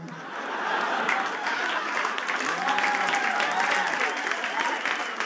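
A comedy club audience applauds a stand-up comic, a dense, steady wash of clapping that rises quickly and holds at an even, fairly loud level for several seconds, with faint crowd murmur mixed in.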